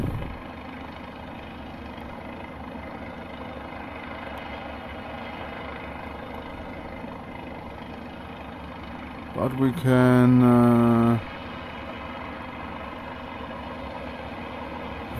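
A helicopter engine in a flight simulator drones steadily with a low, even hum, while someone speaks briefly over it and a short warning tone sounds partway through.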